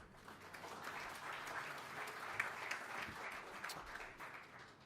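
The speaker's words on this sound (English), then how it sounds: "So give yourselves a round of applause." Audience applause at an evening cancer research fundraiser, a broad, even wash of many hands clapping that sounds somewhat distant and holds steady for several seconds.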